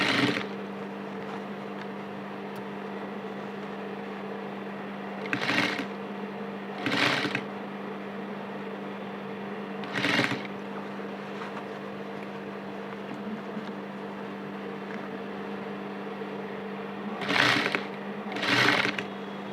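A sewing machine stitches a gathered puff sleeve in several short bursts. The motor whirs up, runs for a second or so, then stops, against a constant low hum in between. No one speaks.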